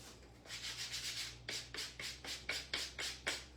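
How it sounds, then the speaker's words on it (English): Wooden coasters are smoothed by hand with 220 grit sandpaper, giving close, hissing back-and-forth strokes in a steady rhythm, roughly two or three per second, with no talking. "So I'm going to take a 220 grit, go over the top of these just to smooth them out a little bit."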